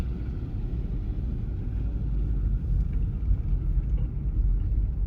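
Low, steady road rumble from inside a 2005 Kia Sedona minivan on the move, a dense continuous drone with faint wind noise and no talking.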